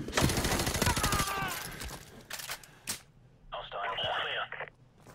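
Bursts of rapid gunfire in Call of Duty: Modern Warfare Remastered crackle densely over the first few seconds, followed by sparser shots and a brief electronic tone.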